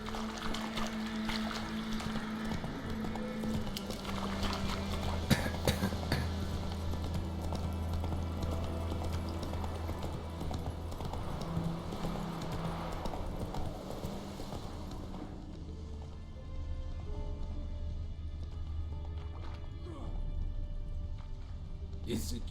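Horse hooves galloping in The Witcher 3 video game, a steady drumming gait running under game music and voices, easing off partway through.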